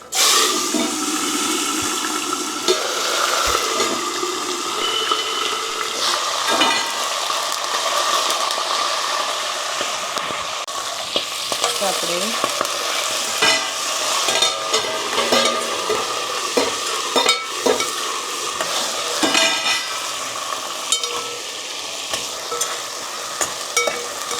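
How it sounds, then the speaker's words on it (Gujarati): Cluster beans with asafoetida and black pepper fry in oil over a low flame, a loud continuous sizzle broken by repeated clattering stirs of a utensil against the pan. "તો આપણે ગવારને થોડો તેલમાં કૂક કરવાનું છે"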